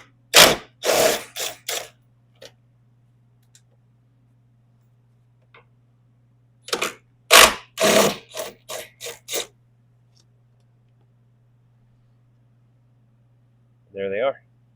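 A hand ratchet backs out 13mm bolts during an HVAC conversion on a RAM truck, sounding as several quick bursts of clicking separated by pauses, with a short final burst near the end; a low steady hum runs underneath.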